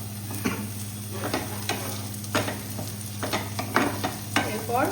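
Capsicum frying in oil for chana masala, a steady close sizzle with repeated scraping strokes of a spatula stirring the pan.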